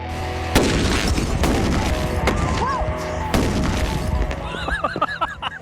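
A bag of gas explodes in a series of loud, sharp booms spaced a second or more apart, each with a rumbling tail, followed by a stretch of noisy rumble and fainter clatter.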